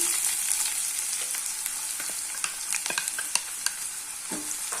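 Finely chopped onions sautéing in hot oil with popped mustard seeds, a loud bright sizzle with frequent sharp spatters and stirring clicks, continuous and close, with no talking.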